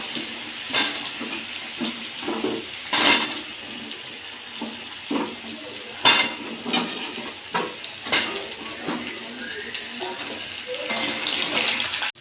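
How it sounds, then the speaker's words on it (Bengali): Mixed vegetables for Bengali shukto frying in a pan with dry red chilli, panch phoron and bay leaf, steady sizzle broken by repeated scraping stirs of a spatula, close and fairly loud. "সবজিটা বেশ ভালো করে আমি ভেজে নিয়েছি শুক্তো।"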